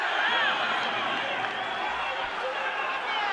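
Boxing crowd roaring on Vassily Levit in his bout against Erislandy Savon, a steady loud wash of arena cheering and shouting sustained throughout.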